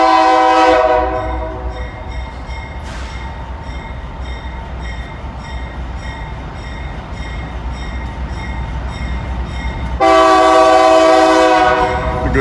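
I&O locomotives approaching Midland Yard blast a loud, chorded horn at the start and again near the end, with a steady low rumble of engines and rolling wheels in between.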